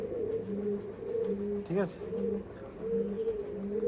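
Andhra pigeons coo in repeated low, throaty phrases close by, several rounds over a few seconds, while someone talks over them.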